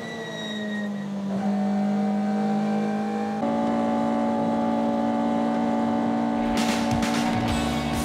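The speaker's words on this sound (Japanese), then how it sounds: "そしてその後方ではドリドリがノーブレーキで最終コーナーへ。" A Toyota AE86 racing through the final corner at a circuit, a sustained loud engine drone with steady held pitch and a gear change partway through, close and continuous.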